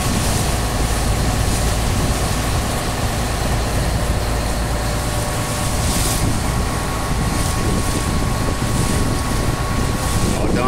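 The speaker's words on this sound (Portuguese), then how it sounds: "É só lancha." A speedboat motor drones steadily while crossing the sea off Fernando de Noronha, loud and continuous with heavy wind buffeting the microphone.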